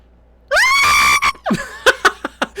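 A woman yells in panic at full force, a sustained high scream lasting nearly a second, then broken, gasping shouts and shorter cries following one after another.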